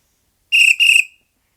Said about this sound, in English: and blew the whistle.